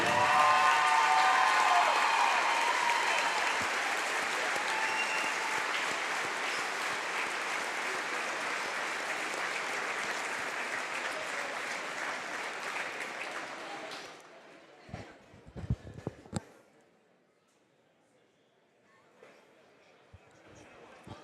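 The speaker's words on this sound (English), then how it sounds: "let's give a big round of applause for our 2024 IHSAA Class 2A state champion." A crowd at a high school basketball game applauds steadily for over ten seconds for the 2024 IHSAA Class 2A state champion, the clapping slowly fading before it stops abruptly, followed by a few scattered claps and light noise.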